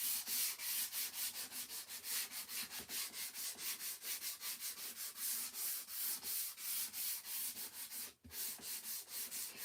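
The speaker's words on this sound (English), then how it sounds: "once things start to get dry, I like to just sand them lightly." A wooden sign post is sanded lightly by hand, with quick rhythmic back-and-forth scratching strokes repeating steadily and close, pausing briefly near the end before resuming.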